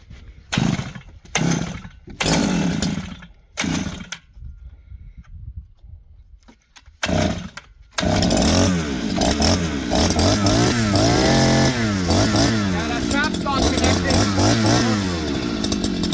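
A cheap TEMU gas brush cutter engine sputters through several short pull-start bursts, then catches and runs continuously with a loud, raspy two-stroke whine and fluctuating revs up close.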